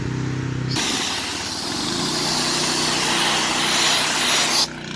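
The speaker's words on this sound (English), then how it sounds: "The engine's cutting out." An engine drones steadily with a broad, rough roar, then stops abruptly near the end; a brief lower hum is heard before the roar begins.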